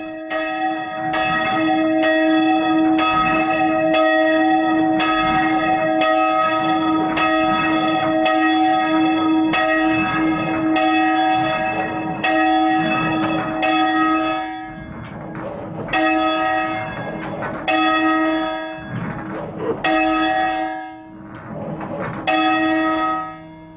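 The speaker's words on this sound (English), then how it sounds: "raise the bell to its upside down position, the ringer has to swing the bell higher and higher until the bell is turning full circle" A church bell in a British tower is rung up toward full circle, striking loud, steady, evenly spaced strokes that ring on and overlap. The rhythm grows less even toward the end.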